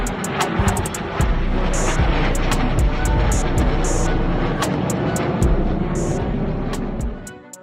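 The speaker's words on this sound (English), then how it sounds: "A B-2 stealth bomber flyover at full thrust at the Dover Air Force Base Air Show in" A B-2 stealth bomber at full thrust roars overhead at an air force base air show, a loud, sustained, rumbling engine wash with sharp clicking bursts scattered over it.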